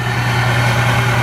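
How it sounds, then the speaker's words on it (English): A 2020 Duramax truck idles with a steady, deep exhaust drone, close and constant throughout with no talking. "exhaust sounds good"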